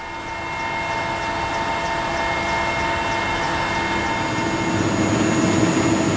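A warlord's helicopter flies over northern Afghanistan toward Balkh, heard from inside as a loud, constant engine drone with steady whining tones that swells slightly over the stretch.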